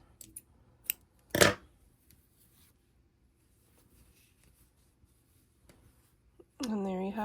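Scissors snip through crochet yarn on a Baby Yoda beanie, a single short close cut with a few faint clicks around it, then a voice starts speaking at the end.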